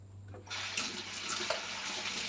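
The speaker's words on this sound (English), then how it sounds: "I'm just going to wash my hands." Tap water runs steadily into a kitchen sink while hands are washed mid-recipe, a continuous broadband splash starting abruptly and holding at an even, close level without talk.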